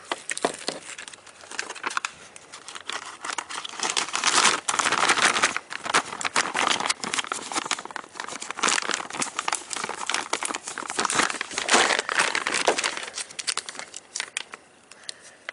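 A plastic bag crinkles and rustles continuously as it is handled while a LAUNCH X431 V+ PRO Elite 4.0 scan tool kit is unboxed, with close, busy crackling that swells and eases in uneven bursts.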